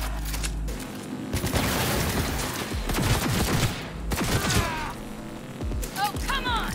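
Assault rifle fire in the video game Cyberpunk 2077: loud, dense bursts of rapid shots run almost without pause, mixed with booming impacts and crashes.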